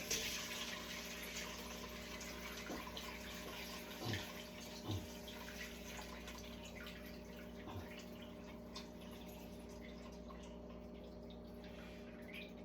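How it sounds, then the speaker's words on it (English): Tepache, a fizzy fermented pineapple drink, is poured from a jar through a strainer into a pan, giving a soft, steady trickle and splash with a few brief louder drips, faint and close. "I pour this through a strainer."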